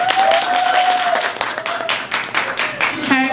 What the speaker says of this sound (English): Please give a round of applause for my co-host, Elizabeth Osei Kwame.